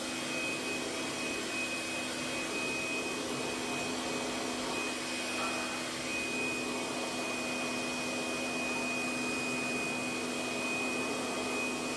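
A blower dries out a peanut butter grinding machine, giving a loud, unbroken airy roar with a faint steady whine that holds constant throughout, with no voices.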